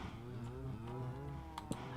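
Minecraft cows mooing in a Hermitcraft cattle pen, a low drawn-out moo with a wavering pitch, followed by a couple of short clicks near the end.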